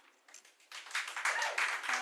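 Scattered audience clapping at a school board meeting, starting faint and thin, then building into a fuller round of applause under a murmur of voices.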